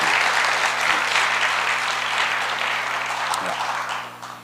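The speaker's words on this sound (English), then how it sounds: "Let's just give God a clap of praise." A church congregation gives a round of applause, a full, dense burst of clapping that stays strong and then gradually tapers off toward the end, with a few voices underneath.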